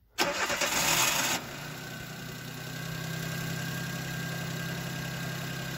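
A Chevrolet Cobalt engine started remotely through a Magicar alarm cranks loudly for about a second, then catches and settles into a steady, close idle with no talking.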